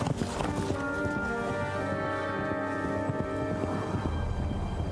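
Rhythmic clip-clop of horse hooves on a hard surface, close and steady, layered over a bright musical background, in the video game Kingdom Come: Deliverance II.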